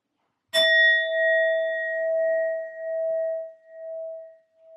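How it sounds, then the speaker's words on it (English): A sound bowl is struck once, giving a bright metallic strike followed by a long, clear sustained ring that slowly fades over several seconds, heard alone and close. "I will be using my sound bowl to clear and set the energy as always"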